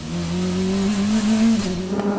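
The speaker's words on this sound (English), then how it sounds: "Marco Wittmann has got the car going again." A DTM race car gets going again after stopping out on track, its engine note rising steadily and loud, with some tire noise mixed in.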